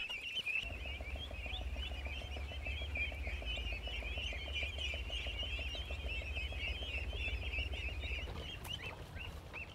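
Ducklings chirp in a steady, busy chorus of high peeps as they are carried into a farm. The peeping is close and continuous over a low rumble, with a brief louder thump near the end.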